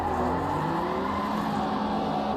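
Race car engine in a sim racing video game, revving in short throttle blips with a steady droning tone and a faint tire squeal, close and moderately loud with no talking.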